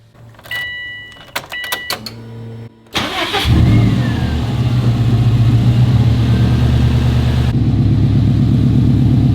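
A Subaru Impreza GC8 with a swapped STi engine: a few key chimes and clicks, then a starter crank and the engine catches, settling into a loud, steady idle rumble close by.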